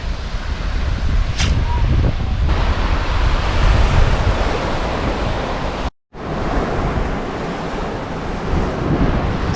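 Ocean waves on an uncrowded South Carolina beach, a loud, continuous wash of surf mixed with heavy wind rumble against the microphone, broken by a brief cut partway through.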